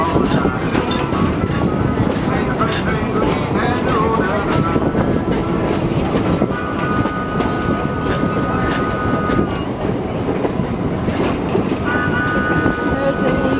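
A train rolls steadily through the Verde Canyon in Arizona, a continuous loud rumble with rhythmic wheel clatter and occasional squeal, while people chat over it throughout.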